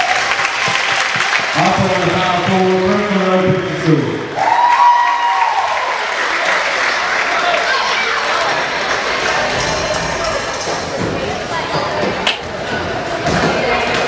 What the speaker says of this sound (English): Give him a round of applause if you would.